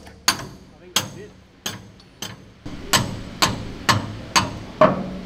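A seized shaft on an Australian WWII M3 Grant tank is struck about ten times with a hammer, in sharp, loud, evenly spaced metallic blows with short ringing decays.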